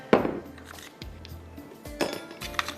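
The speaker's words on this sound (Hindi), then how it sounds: "थोड़ी सी बर्फ़ भी डाल देते हैं ताकि ये थोड़ा ठंडा हो जाए यहाँ पर" Ice cubes clatter into a blender jar for an almond shake, a sharp clinking drop followed by a few lighter knocks and a second burst of rattling, close and fairly loud with no talk.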